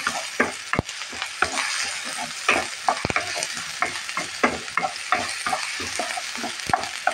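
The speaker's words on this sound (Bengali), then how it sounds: "এই যে রসুন আর সামান্য আদা বাটা, হাফ চামচ অল্প অল্প করে দিয়ে দেওয়া, একটু একটু কষিয়ে নেব" Garlic and ginger paste sautéing in a pan, with a steady close sizzle broken by frequent scraping stirs of a spoon against the metal, no voices.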